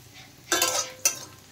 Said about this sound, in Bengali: এদিকে দেখেন পেঁয়াজও ভালো করে ভাজা হয়ে গেছে।